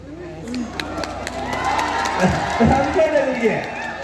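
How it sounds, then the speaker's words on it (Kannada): An audience at a folk festival claps and cheers, a loose, moderately loud crowd response that builds over a few seconds with scattered voices mixed in. "ನೀವೆಲ್ಲ ಚಪ್ಪಾಳೆ ಹೊಡೆದ್ರಿ"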